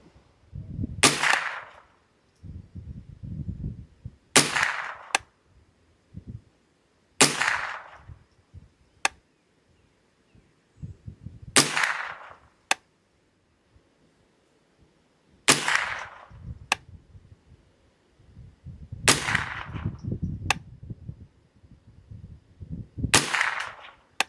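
Rifle shots at an outdoor shooting range, six sharp loud reports spaced a few seconds apart, each with a short trailing echo, with low rumbling handling noise between them.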